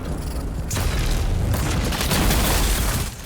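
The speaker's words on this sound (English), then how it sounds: "then drop your gravity mine, hopefully they're inside" A gravity mine in Dune Awakening explodes with a loud, sustained booming roar that rises sharply and rumbles for several seconds before dropping off.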